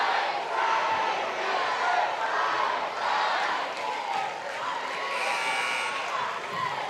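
A loud, steady roar of a crowd cheering and shouting fills a gym during a boys varsity high school basketball game, sustained and dense from start to finish.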